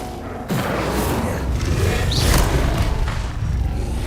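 The Incendio fire spell goes off in the Hogwarts Legacy video game, a sudden loud whoosh of flame that starts abruptly and roars steadily for a few seconds.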